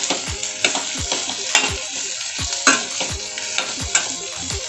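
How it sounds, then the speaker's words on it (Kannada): Chopped cluster beans and onions stir-fried in hot oil, with a steady sizzle broken by regular scraping strokes of a spatula against the pan, close and fairly loud, with no voices. "ಇದನ್ನು ಹಾಕಿ ಮಿಕ್ಸ್ ಮಾಡ್ಕೊತಾ ಇದ್ದೀನಿ"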